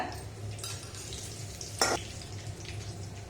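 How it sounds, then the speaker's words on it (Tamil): Mustard seeds, urad dal and dried chillies sizzle in hot oil, making a steady close hiss with light crackles and one brief louder burst midway, without speech. "கடுகு பொரிஞ்சோன்னா கொஞ்சமாக உளுந்த பருப்பு, ஒரு 2 காஞ்ச மிளகாய் அதே பிச்சு போட்டுக்கோங்க"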